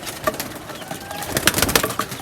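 Pigeons cooing and calling nearby, several overlapping soft calls with occasional sharper chirps and light rustling, no talking.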